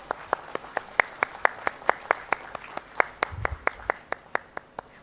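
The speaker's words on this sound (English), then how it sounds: "a big round of applause" Scattered audience applause at a live Odisha Tex 2025 event, a steady run of distinct individual claps at a moderate distance, fairly sparse and even in rhythm, with a brief low rumble partway through.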